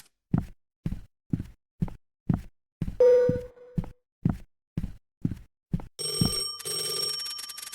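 Regular rhythmic footsteps thud in a video game, then a telephone begins ringing with a bright electronic tone, briefly at first and then continuously near the end.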